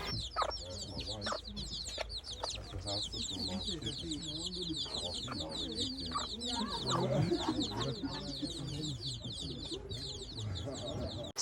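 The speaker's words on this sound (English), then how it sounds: "Cute mama and her chicks." Under a busy outdoor soundscape on Bunce Island, Sierra Leone, a mother hen clucks steadily while her chicks cheep in continuous high peeps, close by, with faint voices in the background.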